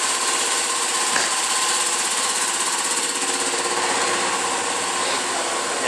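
An air compressor runs steadily in a chicken farm building, a loud continuous mechanical drone with a rattling, buzzing tone that holds without pause throughout.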